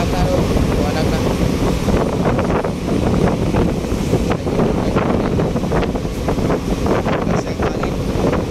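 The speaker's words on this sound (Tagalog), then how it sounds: "Kasi hangin. Hangin na yan." Strong wind at sea buffets a boat near Cebu, a loud, steady roar of gusts and wind noise on the microphone with waves underneath.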